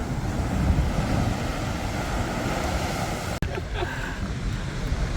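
Large ocean waves breaking below 100-foot cliffs on the Portuguese coast near Cascais and Carcavelos make a continuous heavy roar mixed with wind buffeting the microphone, with one sharp click partway through.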